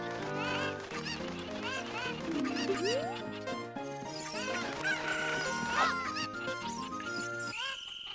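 Chickens cluck and squawk in The Legend of Zelda: Ocarina of Time at the ranch, with several bird calls over busy game music throughout.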